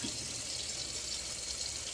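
Liquid from a can of peas draining into a sink, a soft steady trickling pour, faint and continuous with no talk.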